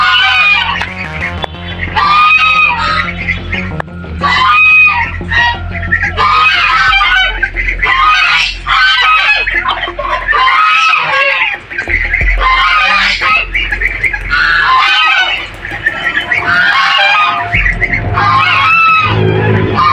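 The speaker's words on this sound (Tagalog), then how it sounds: "Ito, tumakas pala ang mga gansa." A flock of geese escaping, honking and squawking continuously in loud overlapping calls close by, a raucous unbroken chorus with a rumbling noisy background throughout.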